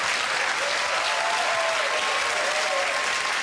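Studio audience at a Swiss television comedy show bursts into sustained, dense applause after a comic trick imitating Donald Duck, steady and loud throughout with faint crowd murmur and no speech over it.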